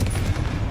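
Confringo fire spell cast during Hogwarts Legacy combat: a short, dense burst of explosive crackle and rumble, loud and close, lasting under a second with no voice over it.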